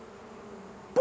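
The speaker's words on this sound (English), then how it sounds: "The bees were too cold to be cross, so they buzzed around the fireman hoping he'd mend their hive" A cartoon swarm of bees buzzes in a steady, low drone around a steam engine and fireman, ending in a sharp squeak-like sound.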